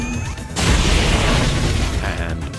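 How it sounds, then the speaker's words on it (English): Grenade explosion in the XCOM 2 video game, a loud, sustained boom with a heavy rumbling low end that swells and fades over a couple of seconds. "With a single grenade."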